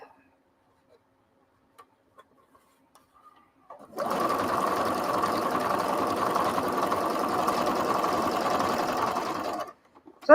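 Domestic sewing machine stitching steadily and loudly for about six seconds after a quiet stretch, a dense continuous whir with a fast mechanical rhythm that cuts off abruptly.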